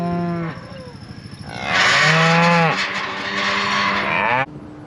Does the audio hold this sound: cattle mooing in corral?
yes